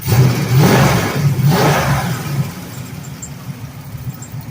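A twin-turbo 1985 Buick Regal's larger engine runs loud and close, blipping through two quick revs before settling into a steady, lumpy idle.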